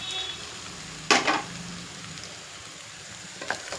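Cucumber and tomato cooking in a pan sizzle quietly, then a spoon scrapes through them in one sharp burst, followed by a softer clink toward the end.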